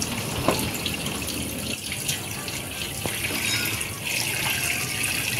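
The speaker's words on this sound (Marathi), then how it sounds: "पॉपलेट एकदम स्वच्छ धुवून घ्यायची सर्वप्रथम।" Pomfret fish being washed under a running kitchen tap: a steady, continuous splashing stream of water with faint irregular clinks and drips, close and moderately loud, with no talking.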